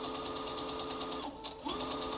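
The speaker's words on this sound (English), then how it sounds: "so that the sewing machine needle hopefully will not get broken" A sewing machine stitching elastic along the bottom of a cloth face mask, a fast, even mechanical clatter that briefly slows and dips mid-run before resuming at full speed.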